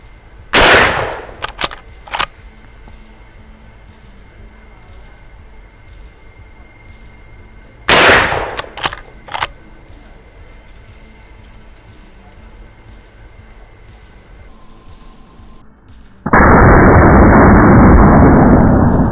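Marlin 1894 lever-action rifle in .44 Magnum fired at a target: two clusters of sharp, loud reports roughly seven seconds apart, each followed by quick clattering, over a steady background hum, ending with a loud broadband rush.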